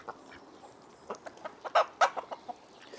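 Bantam chickens clucking in a run of short, sharp calls that grow louder midway, close by with a soft background hiss.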